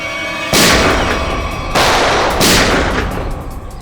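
Gunfire in a TV crime drama: three loud, close bursts of shots, each decaying over about a second, with no voices over them.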